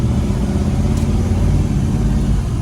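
A 1972 Chevrolet Chevelle L48 V8 running, a loud, steady close-up engine rumble with an even low throb for a couple of seconds.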